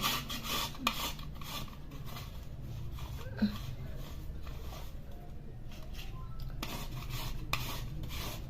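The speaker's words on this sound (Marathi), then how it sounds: "आपल्याला अर्धी वाटी आता गुळ किसून घ्यायचं" A block of chemical-free jaggery is grated by hand, giving soft, continuous rasping strokes with a few light clinks of utensils, close but quiet.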